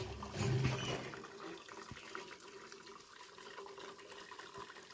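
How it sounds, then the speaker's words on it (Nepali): Hot water poured off boiled chow mein noodles, a brief gushing splash at the start that settles into a faint steady trickle and dribble. "अब यसलाई चाहिँ यहाँ पानी तारिदिने सर्लक्क।"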